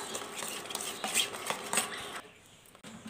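Spiced batter is mixed vigorously in a bowl, giving quick wet slaps and utensil clinks against the sides for about two seconds, close by, then a brief pause and a sharp knock at the end.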